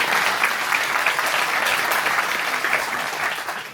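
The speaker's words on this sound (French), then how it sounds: "Je vous applaudis." An audience at a women's day gathering claps for the organizing committee, a steady, lively burst of applause lasting a few seconds and easing slightly at the end.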